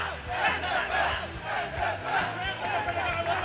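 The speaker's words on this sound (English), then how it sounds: "They are cheering for their boys." Esports crowd at a Smash Ultimate tournament (CEO 2023 winners semis) cheering and yelling in loud surging waves, a dense roaring mass of voices with shouts rising and falling throughout.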